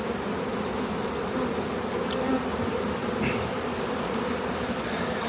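Honey bees in a hive during summer split work, producing a dense, steady buzz that holds close and unbroken throughout, with no voices.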